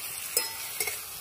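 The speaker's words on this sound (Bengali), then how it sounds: "ভালো করে নাড়িয়ে দিলাম" Egg and tomato are stirred in a frying pan without water. A low sizzle runs under two quick scrapes of a spatula against the pan, with no voices.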